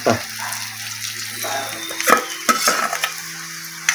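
Tomato tossed into browned, sautéed onion in a pan in a village kitchen, a soft sizzle under a few quick stirs and scraping strokes, with a faint steady background hum.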